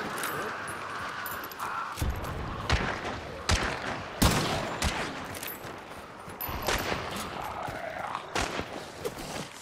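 Gunfire from the video game Hunt: Showdown 1896 crackles in bursts of several shots over a busy background of game noise, fairly loud and close.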